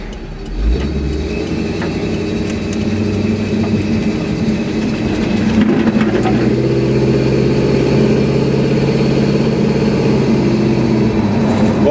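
A steady, loud boat engine drone through mufflers on a lake, with a deep low rumble running continuously throughout and a slight shift in pitch midway.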